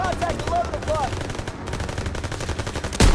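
Rapid automatic gunfire in a shooting video game crackles in dense, continuous bursts, with a sharper, louder shot near the end.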